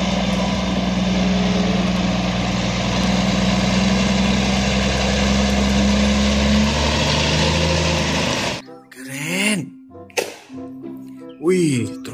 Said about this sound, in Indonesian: Wah, mobil truk kontainer gandeng.